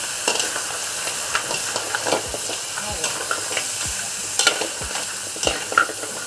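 Mud crabs stir-fried in a wok for a Chinese New Year tomato crab dish, a steady close sizzle and hiss with scraping stirs, while distant firecrackers pop in short bursts behind it.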